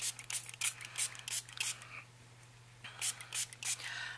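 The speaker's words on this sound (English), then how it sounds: "So once more, I'm going to just spray these down real good." Hissing bursts from a 2-ounce spray bottle of liquid used on a crafting journal project, several short sprays in two clusters, close and fairly quiet, over a low steady hum.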